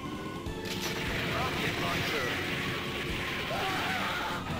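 Machine gun fire in a retro shooter video game, a dense rattling barrage over game music and effects, loud and continuous, with people talking over it.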